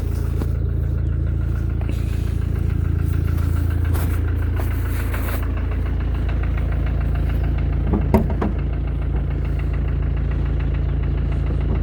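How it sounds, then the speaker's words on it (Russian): A Mercedes OM651 diesel engine idles steadily up close with the hood open, a light knock ticking from the top of the motor, a brief sharp clunk near the end, and no talking. "Где-то сверху стучит что-то."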